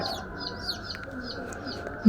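Soft clucking from chickens in the background, a steady low murmur of fowl with faint chirps above, fairly quiet throughout, ending in a brief louder bump.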